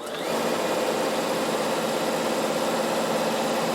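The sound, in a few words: Bernina sewing machine stitching across a trouser pocket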